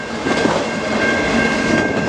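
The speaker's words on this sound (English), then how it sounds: "Trains down there." A CN mixed freight train rolls past the Harrison Avenue railroad crossing in Trenton, Michigan, a steady, continuous rumble of railcars with faint rhythmic wheel clatter, close by and without talk.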